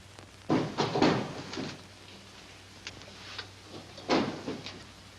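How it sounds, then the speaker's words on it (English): A door bangs repeatedly indoors in an old film scene: two close thuds with rattling, a lighter knock, then another strong bang, each separated by quiet room tone. "Will you please stop that door from banging?"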